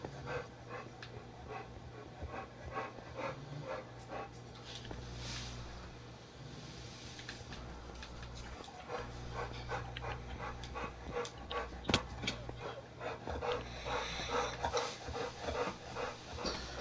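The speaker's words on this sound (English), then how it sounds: "So you're not tired of his panting yet, are you?" A dog panting steadily in Minecraft gameplay, rhythmic breathy puffs repeating throughout over a low game background.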